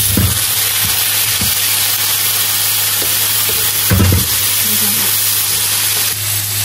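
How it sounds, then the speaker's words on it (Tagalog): Carabao meat drops into a pan of sautéed garlic and onion and fries with a loud, steady sizzle and hiss, with a few thumps of stirring and no speech over it. "Yan, okay na po itong ginigisang bawang at sibuyas. Lalagay na po natin itong mga karne."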